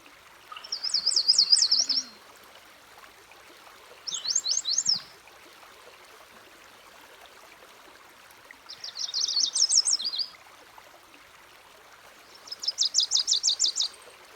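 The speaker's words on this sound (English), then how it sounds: "Like this male yellow warbler." Male yellow warbler singing at a riverside campground in interior Alaska, four bright, rapid trilled phrases spaced a few seconds apart, clear and fairly close, with only a quiet outdoor background between them.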